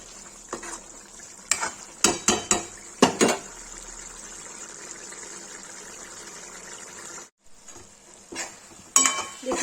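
A spoon stirs black chickpea masala (kala chana) cooking in a pot, clinking and scraping against the pot in a cluster of sharp knocks while the food sizzles softly underneath, then a brief pause and a few more scrapes.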